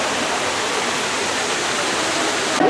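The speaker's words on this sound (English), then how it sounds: "That's the waterfall" Mae Sa waterfall in Chiang Mai, Thailand, gives a loud, steady rush of falling water that fills the air evenly from start to finish, with no voices.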